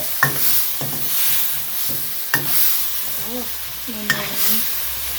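Beef being stir-fried with red curry paste in a pan, a steady sizzle broken by a few sharp scrapes and knocks of the utensil, with brief background voices and a faint whistle-like tone.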